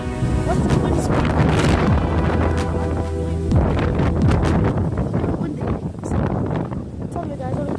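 Strong, constant wind from Hurricane Michael roaring and buffeting a nearby microphone, with rustling and occasional clattering debris throughout, loud and unbroken.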